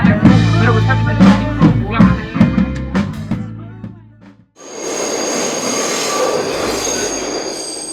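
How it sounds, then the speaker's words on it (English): A New York City subway train at rush hour screeches and rumbles loudly with squealing wheels and clanking, then quiets briefly before a steady, hissing roar of the moving car with a high whine takes over. "The subway during rush hour."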